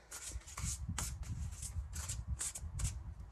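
Oracle cards being shuffled by hand, a run of soft, quick riffling and sliding bursts that repeat in close succession, quiet and near with no talking.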